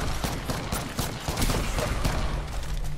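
Rapid, dense bursts of video game gunfire crackle continuously and loudly, forming a steady barrage with no pauses.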